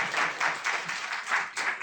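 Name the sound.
applause at a public hearing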